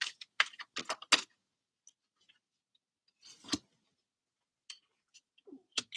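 Tarot cards are shuffled in a quiet room: a quick burst of dry riffling snaps at first, then a pause and another short shuffle, with a few scattered faint card taps afterward.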